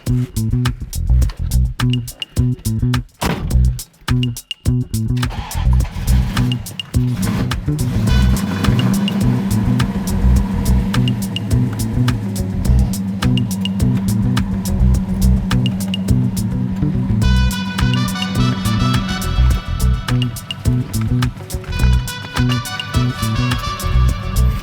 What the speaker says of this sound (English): First ever ride along in a Plymouth Duster.